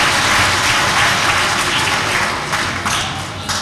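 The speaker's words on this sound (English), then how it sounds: "you better give them a round of applause" An audience at a Saint Nicholas event at Saint Jude claps in a dense, sustained round of applause that stays loud and tapers slightly toward the end.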